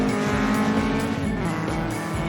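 A Toyota AE86 is driven hard through a mountain pass corner in third gear, its engine holding a loud, sustained high-revving drone with faint tire noise, close and continuous.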